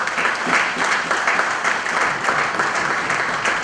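An audience at a Rotary gathering gives warm, sustained applause, a thick and even roar of many hands clapping nearby.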